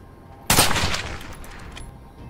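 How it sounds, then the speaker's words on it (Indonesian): Sniper rifle fired during long-range target practice by special forces soldiers, a single sharp loud crack that fades into a long echoing tail. "Ray, Clay, dan seorang sniper SAS melakukan latihan menembak sasaran dari jarak yang cukup jauh"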